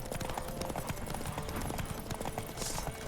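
The horse Roach in The Witcher 3 clip-clops steadily at a walk, hooves thudding near and continuous against a busy game soundscape, with a faint whinny.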